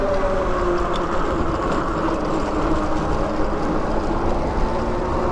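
Steady rumbling hum from a Sinch e-bike with a BBSHD mid-drive motor and a 52V battery while riding, continuous and fairly loud throughout with a faint whine on top and no talking.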